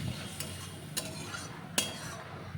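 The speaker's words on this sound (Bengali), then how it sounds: "ভালো করে এবার কষিয়ে নেব।" Chili paste with turmeric and salt being stir-fried in a pan, a soft continuous sizzle broken by three sharp clinks of a spoon against the pan, close and without talk.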